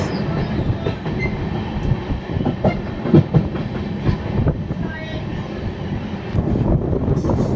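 The Sairang Express passenger train crosses the Nashipur rail bridge over the Bhagirathi river, heard from on board as a steady, loud rumble with rhythmic clickety-clack of wheels over rail joints throughout.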